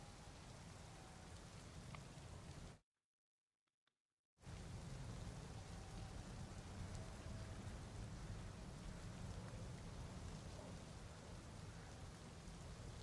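Video game rain, run through GPTK 4, as a steady hiss of falling drops. It cuts to near silence for about a second and a half, then resumes at the same level.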